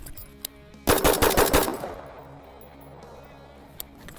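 A rapid burst of rifle shots fired at night from the shoulder, close and loud, around a dozen quick cracks in under a second, then a fading echo and a couple of faint isolated clicks.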